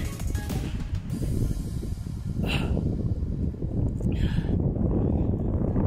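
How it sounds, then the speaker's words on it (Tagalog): Strong wind roars and buffets the microphone in heavy low rumbling gusts, with a couple of brief hissy bursts layered on top. "Lakas ng hangin, guys."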